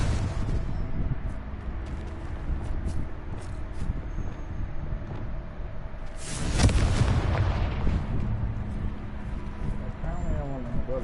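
Confringo blasting spell explodes in Hogwarts Legacy, a sudden loud broadband boom bursting out midway through a busy backdrop of game music and ambient effects.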